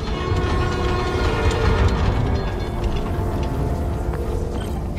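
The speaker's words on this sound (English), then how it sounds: "New York subway. Yes!" A New York subway train in the Spider-Man: Miles Morales game rumbles and rattles loudly and steadily, a dense mechanical clatter of wheels and cars that stays close throughout, with no voices.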